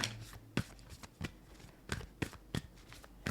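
Moonology oracle cards are shuffled and pulled in a hushed, close setting, giving short soft riffling slaps at irregular intervals, about seven crisp bursts over a faint background.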